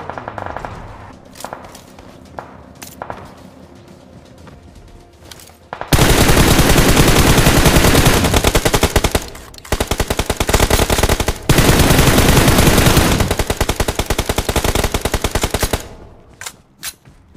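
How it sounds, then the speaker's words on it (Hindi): Sporadic shots, then long loud bursts of rapid automatic gunfire around Pochinki in the battle royale game PUBG, close and dominant, broken by brief pauses. "इतने में भाई वापस से पोचिंगे की साइड से फायर आते हैं"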